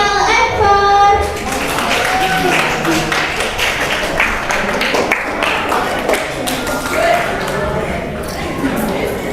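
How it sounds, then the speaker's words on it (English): Audience at a public speaking summit clapping to welcome an evaluator from the floor, a loud burst of many hands that continues as a dense, irregular patter under voices. "Let's put our hands together in welcoming the evaluator from the floor."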